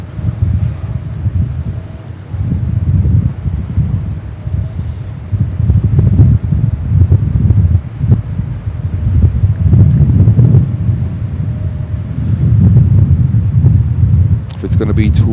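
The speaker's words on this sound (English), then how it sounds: "Wind gusts like a maniac." Strong wind roaring and rumbling against the microphone in repeated heavy gusts at JFK Airport, with a voice faintly present underneath.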